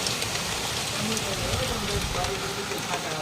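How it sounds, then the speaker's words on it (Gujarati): A dense, continuous roar of heavy monsoon rain pouring down in Surat, steady and loud, with faint indistinct voices underneath. "તો આજે સુરતમાં ધોધમાર વરસાદ ચાલુ થઈ ગયો છે."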